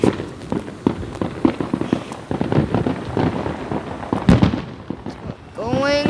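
Long fireworks display with a rapid string of sharp crackling bangs and pops, loud and close, ending with rising whistles, while people talk over it.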